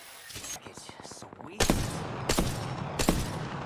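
A fast-firing gun in PUBG lets off rapid bursts of shots, loud and close, with quieter clicks and rattles between them and a voice talking underneath.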